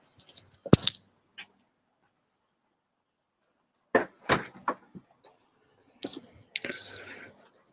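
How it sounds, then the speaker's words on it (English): A door being shut indoors during an astronomy imaging session, heard as a few sharp clicks and thumps spread across the clip, with brief rustling and faint movement between them. "Let me go ahead and shut the door here."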